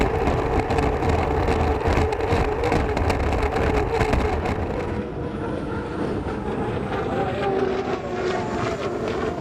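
Unlimited hydroplane race boats running down the front straightaway at the 2019 Bayfair final heat, a loud, continuous engine roar that holds steady and shifts slightly in pitch as the boats pass.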